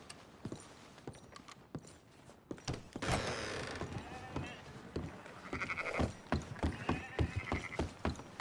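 A horse in the Red Dead Redemption 2 video game clip-clops along and lets out a whinny, the hoofbeats fairly quiet and uneven, with a short spoken command to the horse heard among them.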